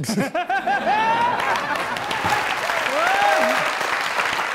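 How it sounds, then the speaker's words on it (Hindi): Loud studio audience applause on a comedy talk show, a burst of clapping mixed with laughter and chuckles, with voices calling out over it. "जोरदार ताली।"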